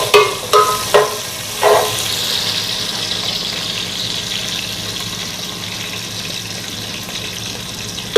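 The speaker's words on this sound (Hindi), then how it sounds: "इसको ब्राउन होने तक चलाएंगे।" Onions fry in a pan with a loud, steady hiss while being stirred; a few metallic knocks and scrapes come early, then the sizzle runs on evenly up close.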